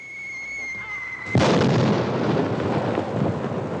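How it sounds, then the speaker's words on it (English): A single deep, booming blast of cannon fire after a steady tone, followed by a long rumbling roar that lingers and rolls on. "That ain't thunder, that's cannon fire."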